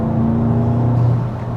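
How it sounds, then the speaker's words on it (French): Intake noise from a Volkswagen Golf 8 GTI engine, a loud steady whirring drone with a low hum, heard close without talk. "c'est l'admission qu'on entend"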